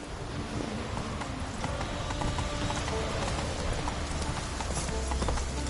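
A horse gallops in The Witcher 3 video game, its hooves clip-clopping in a quick steady rhythm over a dense, noisy game soundscape.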